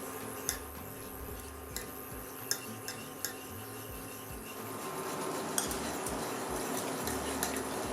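Soft scraping and occasional light clinks of a spoon stirring sauce with vegetable oil in a pan, steady and close, with faint background hum.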